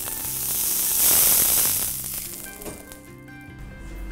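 Oil for a tempering sizzles in a hot pan while chutney is made for quick masala dosa, a loud hissing crackle that swells, then fades to a softer fizz.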